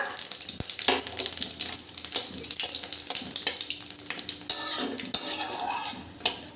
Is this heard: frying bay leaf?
yes